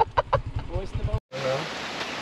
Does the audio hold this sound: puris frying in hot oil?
no